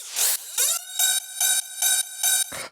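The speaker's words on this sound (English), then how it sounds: "Then we got our ride. So the ride sounds like this." A heavily processed techno ride cymbal with a metallic, ringing tone, struck about six times in an even rhythm. Each hit sustains briefly before a final tail.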